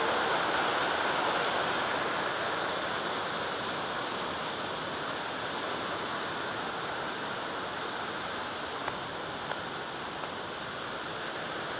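Water rushes at Pinlac Falls, a constant broadband roar of falling water that holds steady and dense throughout, no voices.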